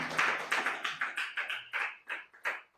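A small church congregation at a Sunday service in Barcarena, Portugal, applauds for the selection committee members. The clapping comes in about ten light bursts, nearby and fairly quiet, with no talking over it.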